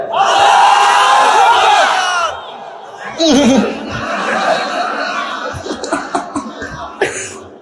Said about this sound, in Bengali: বিবাহিত ভাইয়েরা তাকবীর দেন